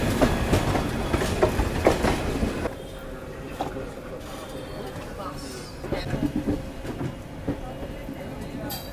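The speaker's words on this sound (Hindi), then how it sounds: "तो ये आ रही है क्वीन ऑफ राजधानी एक्सप्रेस" The New Delhi–Sealdah Rajdhani Express arrives at Asansol Junction station, a loud rumble with clickety-clack of wagons passing close, easing to a quieter rolling din with station murmur.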